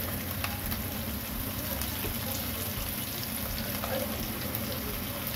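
Ginger, onion, chilli and garlic paste frying in hot oil, a steady continuous sizzle and crackle with faint stirring, close and even throughout with no talking.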